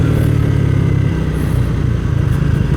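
A Triumph Speed 400 motorcycle engine pulls hard under acceleration, a loud, close, continuous mid-pitched drone that holds steady throughout.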